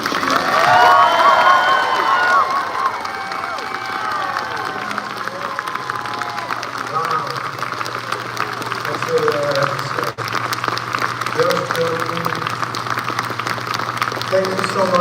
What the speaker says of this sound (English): give him a huge round of applause and make some noise for him